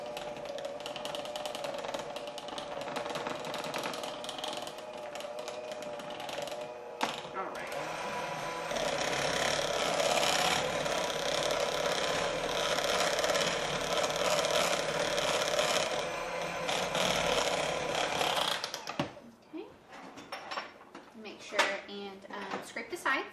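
Electric mixer whirring steadily on low as it blends keto cheesecake batter of cream cheese, a close continuous buzz with occasional bowl knocks and scraping, ending in clattering handling.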